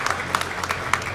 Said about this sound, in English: So I please ask for him for a grand applause for Victor